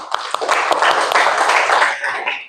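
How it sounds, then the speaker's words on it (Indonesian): Audience applause in a classroom-style talk, a steady wash of many hands clapping at moderate volume for a couple of seconds, tapering off at the end. "Boleh tepuk tangan."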